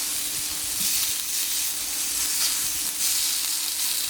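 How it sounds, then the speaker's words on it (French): Prawn skewers cook on a hot plancha griddle with a steady, close hissing sizzle that holds throughout, with no voices. "les brochettes, la plancha c'est une cuisson par contact"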